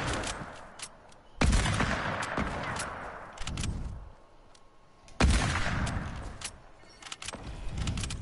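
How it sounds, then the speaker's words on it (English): Gunfire in an online shooter game: two bursts of sharp, loud shots, each followed by a stretch of rapid cracks and scattered clicks, with quieter gaps between them. "Someone's behind me shooting."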